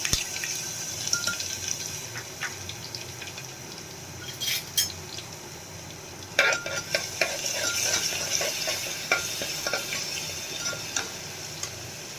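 Cumin seeds, a pinch of asafoetida and garlic paste fry in hot oil for a Kathiyawadi-style bottle gourd curry, giving a continuous close crackling sizzle broken by occasional spoon clinks and stirring scrapes.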